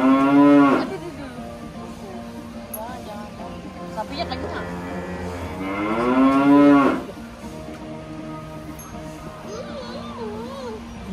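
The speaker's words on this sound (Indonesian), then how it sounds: "Itu sapinya pakai lonceng." A cow wearing a bell moos loudly twice, long drawn-out lowing calls, with quieter voices and someone talking between them.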